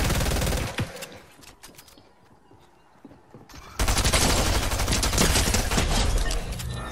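Rapid pistol gunfire in a video game crackles in dense, loud bursts, drops to quieter scattered shots for a couple of seconds, then resumes as a sustained heavy volley of overlapping shots.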